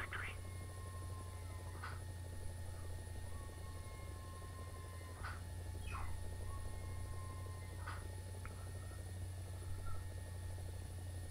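Huey helicopter in War Thunder, a low, steady rotor and engine drone running throughout, with faint intermittent chirps and clicks on top and some talk.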